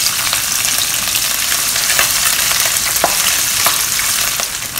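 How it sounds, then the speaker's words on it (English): Cuttlefish frying in hot oil at medium-low heat, making a loud, dense, continuous sizzle close by, broken by occasional stirring clacks. "put the cuttlefish in and fry them until crispy"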